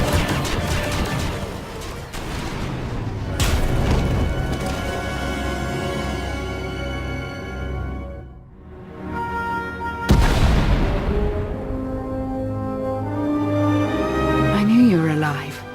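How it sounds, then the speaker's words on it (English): Deep booming explosions and heavy crashes from the video game Star Wars: The Old Republic roll under a dense music-and-effects mix, with several loud impacts and rumbling swells. "We heard explosions."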